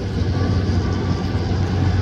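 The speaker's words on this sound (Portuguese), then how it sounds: "Vamos pegar essa decolagem do Jet Smart A321 aí, galerinha." Jet Smart Airbus A321 taking off at Guarulhos airport in a crosswind, a continuous low engine roar heard from a distance, steady and fairly loud with no talk.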